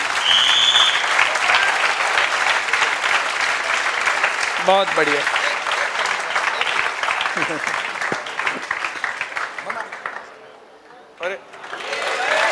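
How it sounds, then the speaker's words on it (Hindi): An audience at a coaching centre claps loudly and continuously for Rajesh's gold medal for about ten seconds, with brief voices mixed in before the clapping dies away. "एक बार राजेश के लिए जोरदार ताली तो बजाओ"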